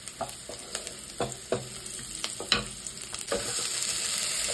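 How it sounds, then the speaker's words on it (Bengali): Onion frying in a pan, a soft sizzle broken by repeated spatula scrapes and taps in an uneven rhythm, growing into a fuller hiss toward the end. "পেঁয়াজটা একটু ভাজা হয়ে যায়"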